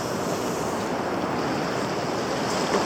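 Ocean surf washes steadily onto a beach on the Oregon coast, a continuous broadband roar of breaking waves with some wind noise, close and fairly loud with no voices.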